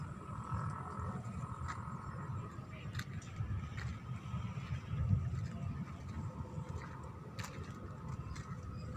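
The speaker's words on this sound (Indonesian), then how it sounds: "ini genset mas bro" A generator set runs at a flooded site beside a toll-road construction project in an Indonesian village, giving a steady low engine drone with faint ticking on top, fairly quiet and continuous throughout.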